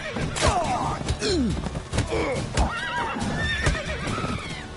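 Roach, a horse in the video game The Witcher 3: Wild Hunt, whinnies repeatedly with rising and falling neighs over clip-clopping hooves and a few thuds, loud and close.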